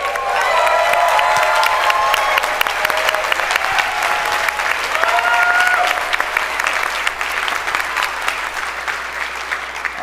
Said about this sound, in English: can you guys stand up and give them a round of applause?